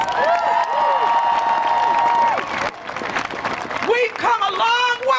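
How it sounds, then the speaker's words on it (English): A women's rally crowd in Milwaukee applauds and cheers for the organizers, with clapping and high whooping shouts swelling and dipping outdoors, voices calling out loudly over the noise. "let's give them a round of applause"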